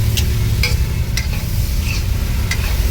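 Beetroot poriyal sautéing in a pan, a loud, steady sizzle with a low rumble beneath, broken by about five sharp scraping strokes of a spatula turning the grated beetroot.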